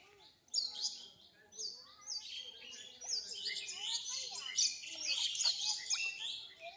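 Several birds chirp and tweet in quick, overlapping bursts by a village pond, fairly close and lively, with no talking.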